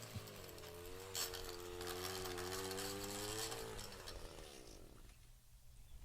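An Echo PAS Pro attachment-series edger engine runs steadily at high throttle while cutting a dirt-packed lawn edge, its motor hum wavering in pitch before easing off toward the end.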